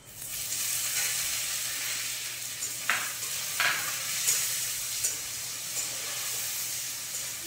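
Chopped tomato sizzles in a hot pan, the hiss rising as it goes in, with spoon scrapes and clicks of stirring at irregular intervals over a steady fry; no voices.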